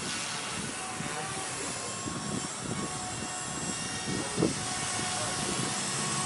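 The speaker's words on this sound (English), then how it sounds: "It trims out fine to hold a nice stable hover." An RC helicopter fitted with 3D printed parts and heavy landing gear hovers steadily, giving a continuous broadband whir of rotor and motor with a faint voice briefly under it.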